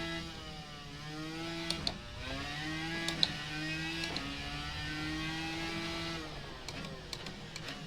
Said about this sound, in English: This car just sounds so cool.